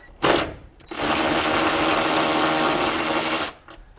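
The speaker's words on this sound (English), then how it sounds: "we have a series of 14 mil bolts that we need to remove. And this is definitely one of those perfect tools for 3/8 ratchet like this" A 3/8 ratchet working 14 mm bolts during a coilover install on a JZX100 Toyota Cresta: a brief burst, a pause, then nearly three seconds of steady rapid clicking, loud and close.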